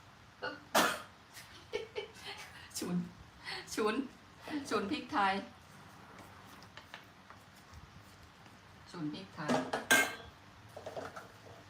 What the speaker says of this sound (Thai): เราจะเอาหมูที่เราลวนไว้แล้วเนี่ย ใส่ไปเลยนะคะแล้วก็จะผัดให้เข้ากัน